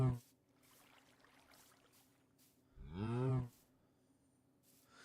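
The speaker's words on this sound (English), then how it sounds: "Moo." A Minecraft cow lets out a single loud, drawn-out moo midway through, over a quiet game backdrop with faint short sounds around it.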